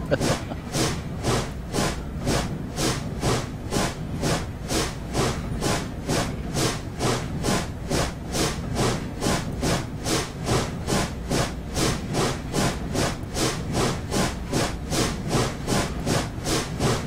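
Steam locomotive sanders on a USATC S160 climbing the Semmeringbahn in Train Simulator 2016, a steady rhythmic chuffing hiss repeating about twice a second, loud and continuous for the whole stretch with no talk.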